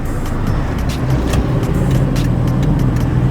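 Stock Toyota Hilux Tiger pickup driving and accelerating, a steady engine drone and road rumble from inside the cab, continuous and fairly loud, with no talking.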